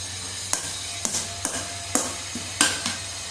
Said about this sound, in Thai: แล้วก็ผัดให้เข้ากันอีกก็จะหอมนะครับ